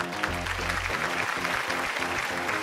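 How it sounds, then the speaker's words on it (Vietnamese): A studio audience of supporters on a Vietnamese family game show claps, a dense, even patter of applause heard over music, with no clear talk. "Cổ động viên ơi, vỗ tay lớn lên nào."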